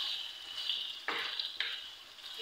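Minced meat keema fries in oil with a bright, steady sizzle, close by, broken by a couple of sharper bursts as it is stirred.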